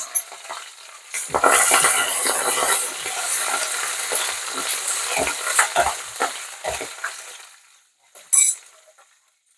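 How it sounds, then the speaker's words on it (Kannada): Curry leaves drop into hot oil in a pan alongside green chillies for a sprouted horse gram poriyal, giving a loud, steady sizzle and crackle with occasional clinks of a spoon against the pan. "ನಂತರ ಕರಿಬೇವು ಸೊಪ್ಪನ್ನು ಹಾಕ್ತಾ ಇದ್ದೀನಿ."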